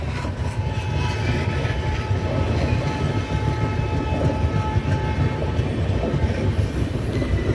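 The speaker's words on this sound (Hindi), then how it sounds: "ये जबलपुर सोमनाथ एक्सप्रेस है, जिसमें जबलपुर सोमनाथ के साथ साथ जबलपुर इंदौर एक्सप्रेस के भी बोर्ड को लगाया गया है" Jabalpur Somnath Express train at a railway station, with a steady loud rumble of rolling carriages and wheels running continuously throughout, no voices.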